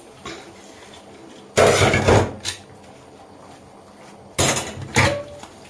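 Two short bursts of clattering dishes and utensils being handled near a sink, separated by quiet pauses.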